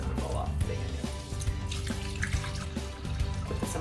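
Water runs steadily from a tap into a pot over corned beef, a close, bubbling and splashing stream that continues throughout while a person talks quietly in the background.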